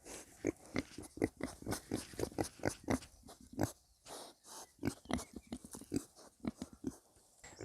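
Two kunekune pigs grunt and chew close by, with rapid rhythmic snorts and munching noises in quick succession and a few short pauses.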